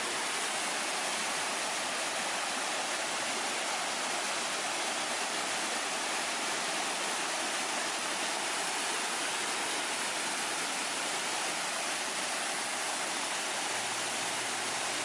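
Steady broadband rush of stream water pouring over the upper dam on Tom's Run, a continuous close roar with no break across the whole stretch.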